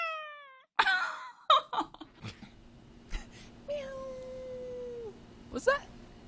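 A voice imitates a cartoony cat meow, a drawn-out rising and falling mew, amid lively overlapping voices and short exclamations during a contestant introduction show.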